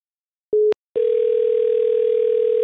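Telephone dial tone on a line while placing a call: a short beep, a brief pause, then a loud continuous steady tone held to the end, with no talking.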